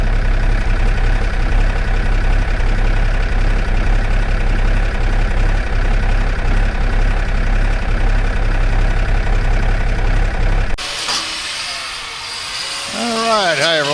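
A Cummins diesel engine idles on a cold morning with a loud, steady low rumble for about eleven seconds, then cuts off abruptly to a quieter scene with a brief voice near the end.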